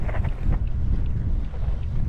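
Strong wind roars steadily across the microphone during a motorbike ride, a dense low buffeting rumble with no gaps.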